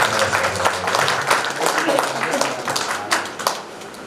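Audience applause welcoming the chief guest, a Supreme Court justice, at the opening of a training centre for new lawyers: a steady wash of many hands clapping for several seconds, dense and continuous, with a voice underneath.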